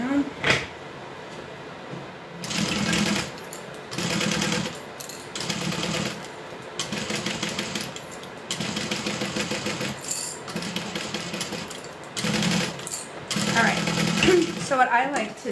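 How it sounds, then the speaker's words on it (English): A sewing machine joins vinyl to cotton in repeated short bursts of stitching with pauses between, close by, while a voice talks over it. "sew it right at the bottom, so that way we're connecting our vinyl to the cotton"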